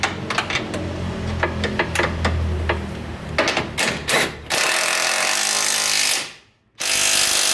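A power tool whirs and rattles in short bursts while tightening control arm bolts on a Ford Focus, followed by a long continuous grinding whine that cuts out briefly, then resumes, all close and loud.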